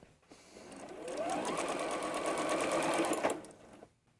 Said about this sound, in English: I'm just going to sew a 1/4 inch seam